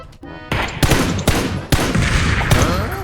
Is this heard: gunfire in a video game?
yes